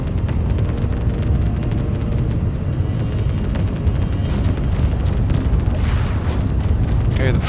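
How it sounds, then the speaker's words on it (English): A full cannon barrage slams into the rear of a spaceship in the video game Void Crew, a dense, loud run of booming explosions and bursts rolling on continuously for several seconds, with game voices talking over it. "that was a full barrage of cannon shots to our rear"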